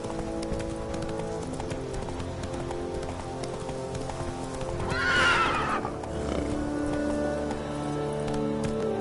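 A horse gallops in The Witcher video game, hooves clip-clopping steadily under game ambience, and a loud, close whinny rises sharply midway through before the galloping carries on.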